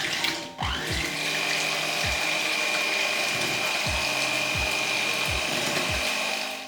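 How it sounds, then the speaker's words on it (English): Lemon cheesecake cream with icing sugar and lemon juice is being mixed, giving a steady mechanical whirr with a rhythmic series of soft knocks, close and moderately loud. "So now we're gonna mix."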